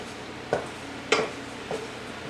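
Garlic sautéing in a pan for shrimp linguine: a faint background sizzle broken by three distinct spatula knocks and scrapes, spaced about half a second apart.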